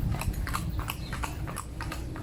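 Horse hooves clip-clop on a street in Senegal, a quick, steady run of close, moderately loud hoof strikes with no talking over them.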